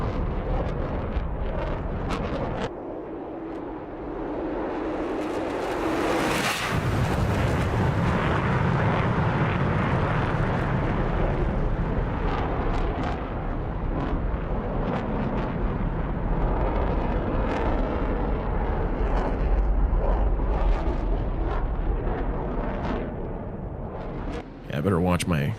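Deep, continuous jet engine rumble of a MiG-29A Fulcrum in the DCS World flight simulator, swelling into a loud roar and holding steady for the whole stretch, with a voice talking over it.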